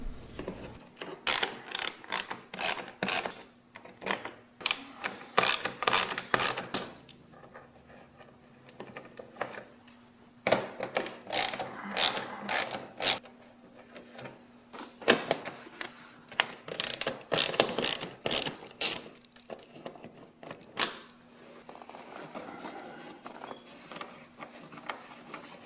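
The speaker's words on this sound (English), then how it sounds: "taking out these 2 thumb screws in the front, followed by the rest of the 8mm screws" A ratchet wrench clicks in rapid bursts removing 8mm screws from a Ford Fusion's underbody cover, several quick runs of close, sharp clicking separated by short pauses.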